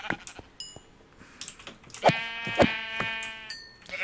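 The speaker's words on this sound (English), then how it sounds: "Here's a lot of sheep, so I'll definitely have more than enough." Several sheep bleat in Minecraft, two loud wavering calls close together in the middle with softer blocky game sounds scattered around them.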